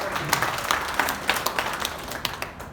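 Scattered, light clapping from a small audience at a Hindi comedy gathering, a handful of distinct claps heard as individual sharp hits over a soft background.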